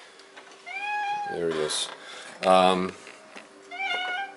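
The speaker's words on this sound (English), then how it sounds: "Good cat, but just doesn't stop meowing." A cat meows repeatedly outdoors, with two clear drawn-out meows near the start and end. Someone speaks briefly in between, and the meows sound moderately close.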